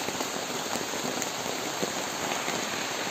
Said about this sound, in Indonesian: sangat hujan deras.